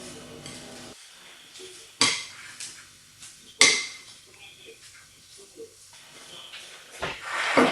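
A spoon stirs chicken orzo salad with tomatoes and lemon in a bowl. Sharp clinks and scrapes of utensil on dish come in a few distinct bursts, with quieter rustling between them and no talking.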